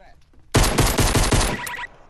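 Video game gunfire, a rapid automatic burst of about a dozen sharp shots in quick succession, loud and close, lasting just over a second and then fading.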